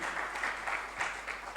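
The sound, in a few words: audience applause at a conference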